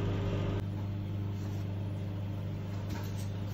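Microwave oven running while heating steak meat, a steady low mechanical hum with a constant drone throughout and no talking.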